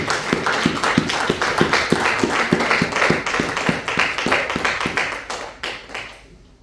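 Church congregation clapping for the Lord in a steady, rhythmic beat, many hands together in a reverberant hall, with the claps thinning out near the end.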